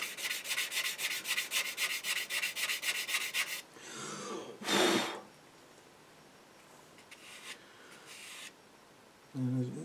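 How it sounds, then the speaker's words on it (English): Sanding a part on an Eduard Spitfire scale model plane: a steady, rapid rasping scrub for about four seconds, followed by a louder brief burst of rubbing and then quieter handling noises, close up with no talk. "Run the sander down there."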